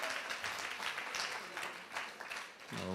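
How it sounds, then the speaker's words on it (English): An audience at a workplace nutrition summit claps steadily as a woman walks to the podium, even dense applause that ends as a voice starts speaking. "Please, let's clap for her as she walks to the podium."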